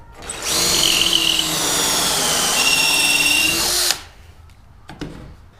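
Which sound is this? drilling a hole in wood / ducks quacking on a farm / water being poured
drilling a hole in wood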